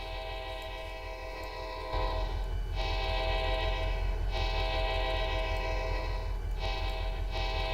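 Horn of a Railmods AC44 locomotive in the Trainz simulator, a sustained multi-tone blast repeated in long and short bursts over a steady rumble of rolling train, loud and close.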